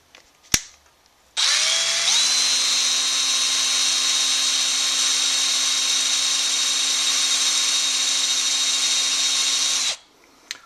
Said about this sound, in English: The next step is to drill a hole in the seal for the screw. I'm using a 1/8 inch drill bit.